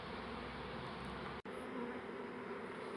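A swarm of honeybees being moved from a brick wall into a hive box drones in a dense, continuous buzz close by, broken only by a momentary dropout midway.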